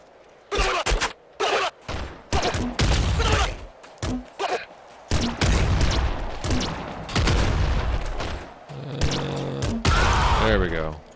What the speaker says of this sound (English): Laser pistol, save me.